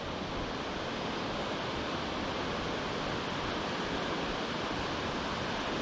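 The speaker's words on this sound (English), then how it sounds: "We'll go look at the waterfall." Whitewater Falls roars as a steady, dense wash of broadband noise, loud and unbroken throughout, with no voices over it.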